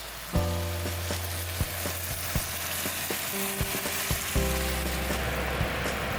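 Green beans and carrots stir-frying in a pan for Thai green curry with chicken, a steady close sizzle with intermittent scraping stirs and clinks.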